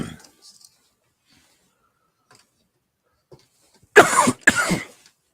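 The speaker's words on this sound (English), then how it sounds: "I'm sorry for coughing like that." Two harsh, loud coughs burst out close by after a few seconds of near silence with faint rustling.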